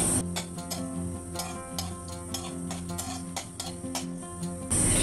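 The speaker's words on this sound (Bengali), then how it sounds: "এখন এর মধ্যে দিয়ে দিচ্ছি সামান্য পরিমাণ কালো জিরে ফোড়ন আর দিয়ে দিচ্ছি 2টো শুকনো লঙ্কা ফোড়ন" Nigella seeds and two dried red chillies sizzle steadily in hot mustard oil, a soft continuous crackle with small ticking pops and the light scrape of stirring throughout.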